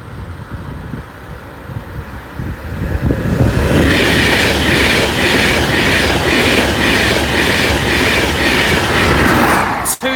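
A train rolls past close by at the Church Lane level crossing, building from a low rumble into a loud, steady roar with rhythmic wheel clatter, ending in a sharp bang.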